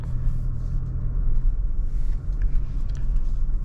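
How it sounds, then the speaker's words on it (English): A 2023 GMC Canyon pickup truck drives on the road, heard from inside the cabin as a steady, loud low rumble of engine and road noise without pause and with no one talking. "So this is my first time driving this Canyon."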